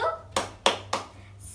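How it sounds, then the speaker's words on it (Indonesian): A class claps three firm, evenly spaced beats for the 'Tepuk Star School' chant, near and distinct, with a short quiet stretch before and after. "Tepuk Star School."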